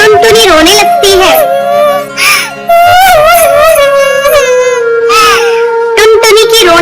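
An animated bird character named Tuntuni cries in a high, wailing voice of sobs and whimpers rising and falling, close and loud, with another voice briefly joining; a person voices the crying.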